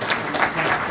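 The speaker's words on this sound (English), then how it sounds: "Let's clap together as they sit." A brief burst of audience clapping at an international technology and innovation conference, dense and fairly close, lasting about a second.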